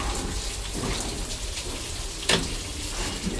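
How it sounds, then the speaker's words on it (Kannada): Tap water runs steadily into a kitchen sink, giving a continuous broadband rush, with one brief louder splash or clatter partway through. "ಲಿಕ್ವಿಡ್ ಹಾಕೋದಕ್ಕೆ ಸ್ವಲ್ಪ ನೀರು ಬಿಡ್ತೀನಿ ಫಸ್ಟ್"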